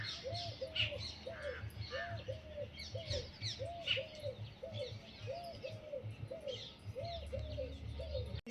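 Parrots calling in a repeated, rhythmic series of short squawks over several seconds, with fainter chirps and other bird calls layered behind them at moderate distance.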